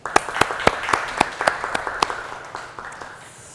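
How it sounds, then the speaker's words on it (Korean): A small audience at a Korean public humanities lecture event claps for the event staff; crisp hand claps ring out near and fairly loud, then taper off and thin to a few scattered claps by the end. "여러분들 박수 한번 부탁드리겠습니다."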